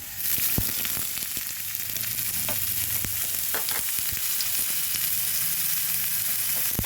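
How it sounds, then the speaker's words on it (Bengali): Ginger and cumin fry in oil in a pan with a steady, close sizzle, while scattered clicks and scrapes mark a utensil stirring them. "এইভাবে নেড়ে দিচ্ছি আদা জিরেটা একটু ভাজা হয়ে আসলে দিয়ে দেব পেঁয়াজ কুচি"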